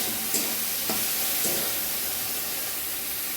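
Paneer curry with turmeric sizzles steadily in a frying pan as it is stirred, with a few soft scraping strokes over the constant hiss of frying.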